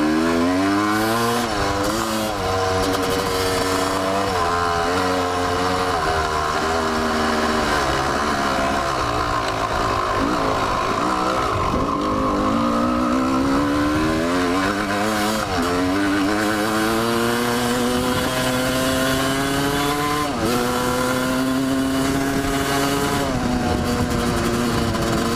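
A Honda CR250 two-stroke dirt bike engine running low on fuel, loud and close, droning continuously with uneven wavering revs that dip and surge throughout.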